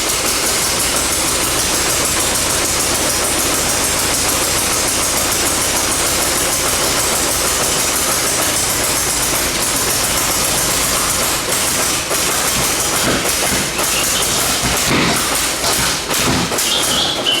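An old tractor engine runs flat out at full throttle with the choke set, giving a loud, steady, rough roar that continues the whole time with a few thumps near the end.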